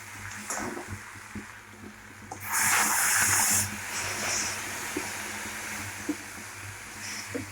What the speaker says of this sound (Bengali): আমাদের মশলাটা প্রায় কষে এসছে, জল দিয়ে দেবো আমরা।